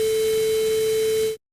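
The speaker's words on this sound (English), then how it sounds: "And now let's listen to the result with Dither." A steady quantized test tone sits under a constant hiss of added dither noise, heard alone for about a second and a half before cutting off abruptly.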